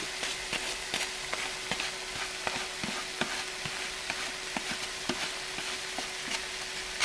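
Diced pickled jalapenos being stirred in a hot pan, with a steady loud sizzle and frying crackle broken by rhythmic scraping strokes of the spoon, close by and free of talk.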